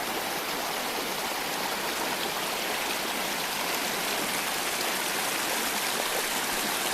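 A river stream on the Piney Branch Trail in Shenandoah National Park flows with a steady, broadband rushing wash, constant and fairly close, with no voices.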